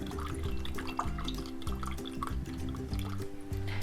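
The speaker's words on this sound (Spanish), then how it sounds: "con la misma bombilla que tomaron, van a hacer sonar el agua." Water bubbled through a mate straw, a series of gurgling, burbling pulses in uneven rhythm, close and fairly soft with no talking.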